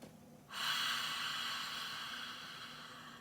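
After a brief quiet moment, a long deep exhale rushes out from the chest as a breathy, airy release, close to the ear and slowly fading over a few seconds.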